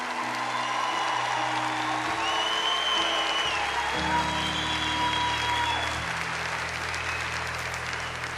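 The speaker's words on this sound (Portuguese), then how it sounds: "Pode aplaudir." Sustained audience applause fills a lecture hall by a Catholic priest on New Year's Eve, a dense, steady wash of many hands clapping throughout, with a faint low hum beneath.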